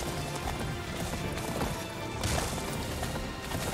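Horses galloping in the video game Attack on Titan 2, a continuous drumming of hooves under a dense game soundscape, with a whinny in the mix.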